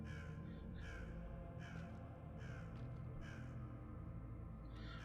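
Owls hooting in the horror video game Coma Mortuary, a repeated series of clear calls at a steady rhythm over a low ambient drone, distant and moderately faint, with no talking.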